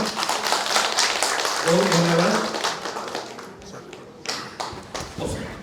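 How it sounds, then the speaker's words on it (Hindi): Applause at a political welcoming event in Sambalpur, a dense burst of clapping for a legislator being welcomed into a party, fading out as voices and a spoken thank-you come through. "करताली जोर रे हिजो"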